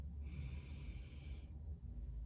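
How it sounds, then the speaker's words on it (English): A single slow, deep inhale during a guided Reiki healing meditation, a soft airy breath drawn in close to the microphone and held for about a second. "One last time. Breathing in again."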